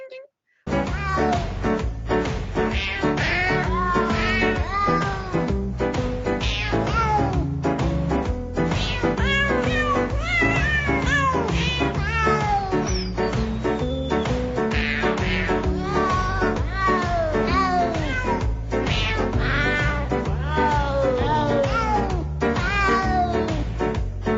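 Cats meow throughout a Christmas novelty recording, with continuous, loud meows cut and pitched to a musical backing, packed densely from start to finish.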